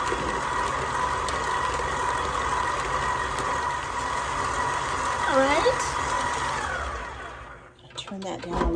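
An electric mixer whirs steadily as it beats cranberry Christmas cake batter with orange and almond, a loud continuous drone that cuts out near the end, followed by a few clunks and a voice talking.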